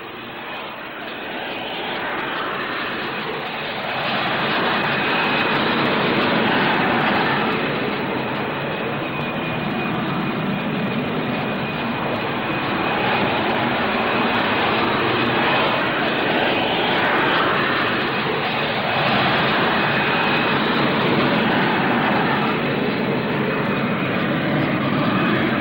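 A VTOL fighter jet powered by a Pegasus engine flies at the 1962 Farnborough air show, making a loud, sustained jet roar that swells after a few seconds and holds steady with no breaks.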